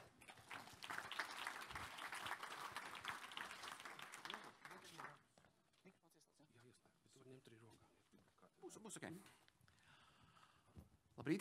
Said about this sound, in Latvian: Ar aplausiem!